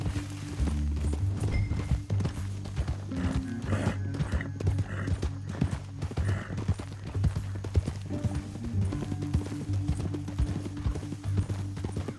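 Steady clip-clop of horse hooves walking throughout in the video game Red Dead Redemption 2, mixed with a low musical drone and an occasional whinny.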